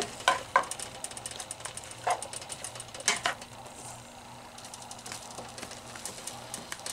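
Vegetables fry in a pan for garlic pasta with a soft, steady sizzle. Scattered sharper crackles and a few utensil taps sit over a low hum, nearby and fairly quiet, with no talking.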